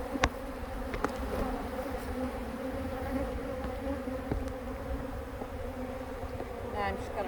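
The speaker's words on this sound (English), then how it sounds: "I'm going to get a whole mess of bees on this clip." Dense honey bee swarm buzzing steadily throughout during a swarm capture in Southern Maryland, a continuous droning hum at close range with occasional soft knocks and faint handling sounds.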